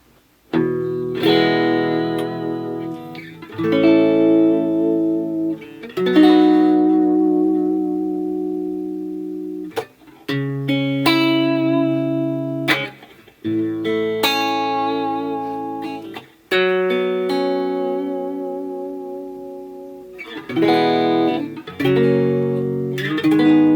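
Electric guitar chords from a Harley Benton JA-60 through a valve amp ring out clean and warm, each strum sustaining with reverb tails before short pauses, played close and fairly loud.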